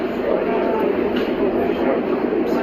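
Brooklyn-bound A Express subway train running, a steady broadband rumble and rolling roar throughout, loud and close as if heard from inside the car, with an onboard announcement voice speaking over it.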